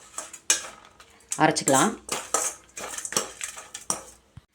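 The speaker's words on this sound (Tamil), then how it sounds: "நல்லா ஒரு நிமிஷம் மிக்ஸ் பண்ணி விட்டுட்டு இதை ஆற வச்சு" Spoon scraping and clinking against a pan while beetroot chutney mixture is stirred off the heat, a run of close, uneven strokes with short pauses, joined by a voice speaking briefly.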